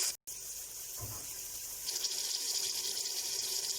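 A steady gush of water is poured into a pan of fried onions, tomatoes and garam masala for matar pulao, a continuous hiss that swells slightly after a brief gap near the start, with no talking.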